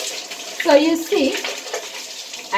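A shower runs steadily as hair is washed, a continuous hiss of falling water with splashing changes and a brief voice-like sound mixed in.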